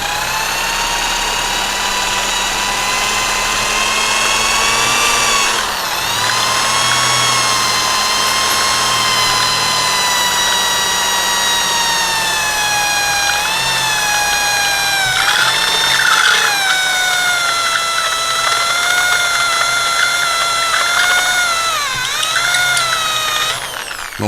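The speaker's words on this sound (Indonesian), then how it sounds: "Nah sekarang kita geser ke si stepper drill bit ini" A step drill bit bores through material in a Supra restoration, its power drill whining steadily and loudly for about 24 seconds, the pitch dipping briefly as the bit bites, with no talking.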